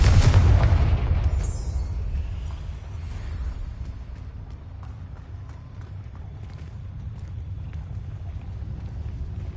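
Confringo blasting spell in a Harry Potter video game: a loud, deep explosion bursts at once, then rumbles and slowly fades over a low background.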